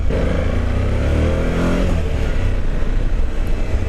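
A Suzuki V-Strom 1050 V-twin motorcycle engine pulls under way, a loud low throbbing rumble that rises in pitch early and then holds steady with wind and road noise, no talk.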